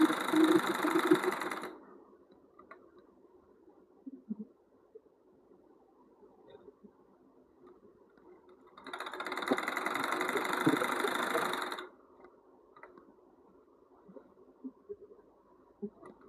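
A sewing machine stitches a dress neckline in two bursts of steady, fast mechanical whirring, one brief and one lasting about three seconds, with near silence and faint handling noises in between.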